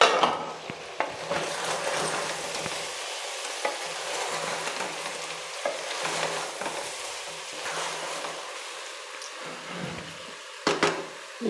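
Lentils frying in a pan with chicken masala for a country-style chicken curry, a steady close sizzle broken by scraping stirs and a few sharp clinks of the spoon against the pan.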